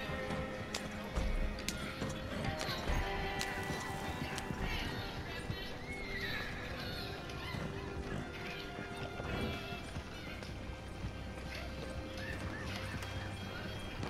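Horse sounds in the video game Red Dead Redemption 2: hoof clip-clop and a whinny amid a busy, dense mix of crashes and outdoor game noise that runs throughout.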